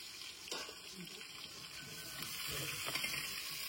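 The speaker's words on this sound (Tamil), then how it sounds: "வெங்காயம் போட்டு தாளிக்கிறோம்." Onion is dropped into hot tempering oil with fenugreek and fennel seeds for a country-style dry fish gravy, giving a steady, moderate sizzle and crackle with a few louder bursts and clatter from the pan.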